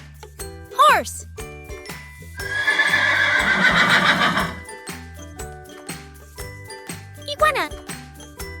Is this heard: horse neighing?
yes